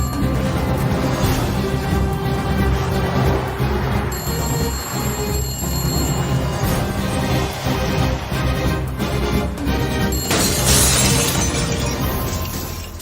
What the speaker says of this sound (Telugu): అద్దాలు కూడా బద్దలు కొట్టుకొచ్చేస్తున్నావంటే